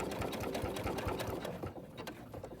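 Sewing machine stitching fabric applique, a steady fast rhythmic whir of needle strokes running throughout at close range, with a brief change in pace partway as the fabric is pivoted at the presser foot.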